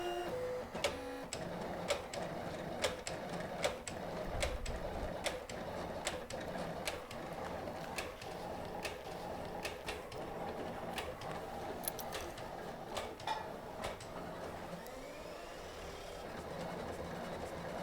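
A Silhouette cutting machine cuts bezel wire from FS999 silver clay, giving a quiet mechanical whir with rapid ticking and clicking carriage movements, steady and close over a long stretch with no talk.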